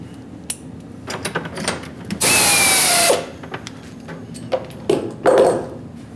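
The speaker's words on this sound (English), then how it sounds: "this is a 1/2 inch 90-degree spotting drill that I use as a chamfer mill" A 1/2 inch 90-degree spotting drill whines in repeated short bursts chamfering holes in metal, with one loud, sustained high-pitched screech in the middle and brief sharp pings between cuts.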